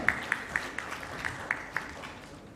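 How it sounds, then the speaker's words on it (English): Applause at a medical stroke symposium greets a chairperson, a fairly faint wash of clapping from the hall with a few sharper nearby claps standing out in an uneven rhythm. "Let's have a huge round of applause for him."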